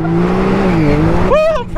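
Truck engine revs hard while drifting through backyard mud on a dirt track, front tires digging in; a loud steady engine drone bends in pitch, then rises sharply near the end.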